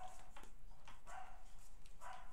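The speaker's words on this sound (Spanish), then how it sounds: "Ese no es tu perro, es el de la Toñi" A dog barks several times at a moderate distance, sharp yaps repeating roughly every half second over a low background hum, with no talking.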